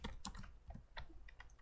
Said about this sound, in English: Please enjoy this minute of typing and having fun.